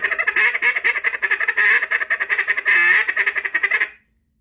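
A Duck Lander duck call blows a rapid run of loud, close quacking notes in a steady rhythm, with one longer drawn note near the end before it stops abruptly.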